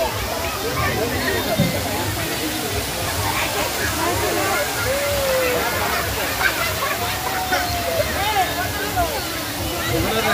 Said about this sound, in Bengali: সবচেয়ে সুন্দর জিনিসটি ছেড়েছে ঝর্ণা।